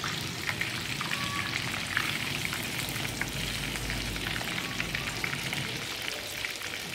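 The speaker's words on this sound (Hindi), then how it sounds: "हम इसको डीप फ्राई करेंगे" Minced-meat chicken kebabs coated in egg deep-frying in hot oil over a low flame, a steady dense crackling sizzle that stays constant and close throughout, with no talking.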